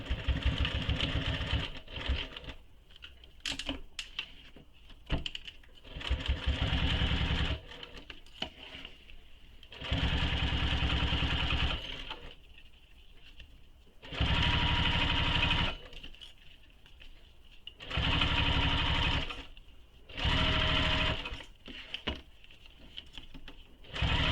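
Sewing machine stitching down a strap in repeated bursts of several seconds each, separated by quieter pauses with light handling noise.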